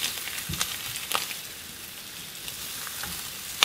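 Cajun sausage and apples fry in a pan with a steady, soft sizzle, broken by a few light clicks and stirring taps, heard close with no talk.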